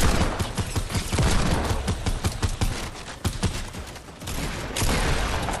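Rapid bursts of gunfire from a Fortnite Battle Royale match crackle almost continuously at close range, dense and loud with a brief lull near the end before the shooting resumes.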